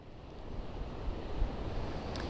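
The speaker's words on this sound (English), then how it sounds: "these are very strong seas here this morning" Heavy ocean surf rolls in steadily at Salisbury Beach on a rough morning, with a constant deep roar of strong seas and wind buffeting the microphone throughout, no voices.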